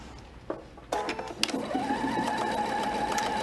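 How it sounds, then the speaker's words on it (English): Sewing machine stitching silk ribbon with a straight stitch, starting up after a couple of clicks and then running at a steady, continuous whir close by. "So they're here on the top of the machine, and begin sewing."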